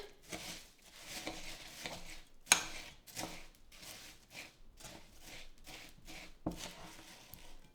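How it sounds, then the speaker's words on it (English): Spoon scraping and stirring a thick nice cream cake mixture in a bowl, with repeated short bursts of mixing and clinking at a steady, close pace, sometimes louder, no talk. "And now we're just gonna mix this"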